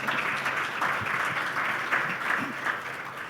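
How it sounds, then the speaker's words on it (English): An audience applauds after a talk at a session on Edmonton housing and growth, a dense steady wash of many hands clapping that holds for several seconds with a faint voice underneath. "a round of applause to Christel."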